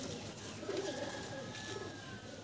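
A pigeon coos softly a few times, fairly faint against a steady background hiss, with no one talking over it.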